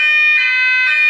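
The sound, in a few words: building fire alarm sounding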